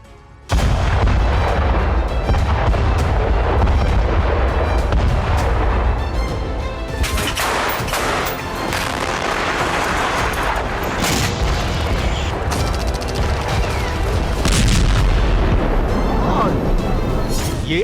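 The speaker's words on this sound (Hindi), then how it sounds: "4 दिन का सीजफायर शुरू होने से पहले जहां इजरायली सेना ने गाजा में जमकर बारूद बरसाए" Israeli army bombardment in Gaza: a continuous loud roar of heavy booms and explosion-like bursts, with sharp cracks and thuds layered over a dense low rumble for the whole stretch.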